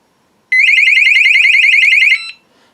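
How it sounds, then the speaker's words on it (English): A car-alarm-style SOS siren from a steel shed security system's remote blares loud and close, a rapid warbling electronic tone lasting under two seconds before cutting off. "if I press that, it's going to go like an alarm off"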